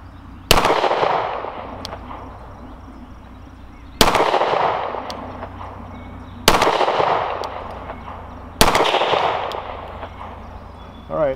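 Four loud, close gunshots from a Rock Island Ultra 10mm double-stack pistol, fired outdoors at spaced intervals of a few seconds, each sharp crack followed by a ringing decay.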